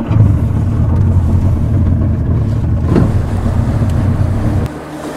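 A motorboat engine drones steadily and loudly on the water off Maine with wind buffeting the microphone, the roar dropping slightly near the end.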